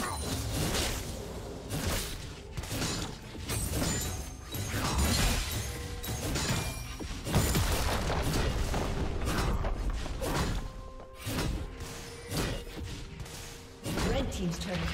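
A turret crumbling in League of Legends: layered crashes, mechanical clanks and whooshes pile up across a busy battle mix, with repeated impacts and an announcer voice speaking over the game sounds.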